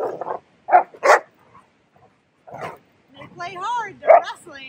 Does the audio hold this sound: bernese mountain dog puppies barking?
yes